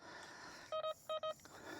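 A Pancky PK-0075 metal detector sounds its target tone over a dime-like find: four quick, bright electronic beeps in two pairs, clear and close against faint outdoor background, no talk.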